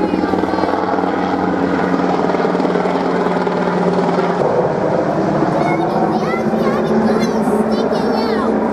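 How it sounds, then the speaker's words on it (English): A loud helicopter thunders close overhead, its rotor chop steady and droning, with voices talking underneath. "hears a helicopter he's excited about seeing."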